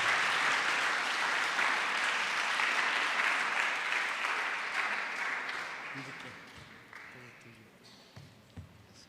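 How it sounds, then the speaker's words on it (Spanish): A church congregation gives a guest a warm round of applause that holds steady and dense, then gradually thins and fades away, with a few stray claps near the end. "vamos a recibirlo con un fuerte aplauso"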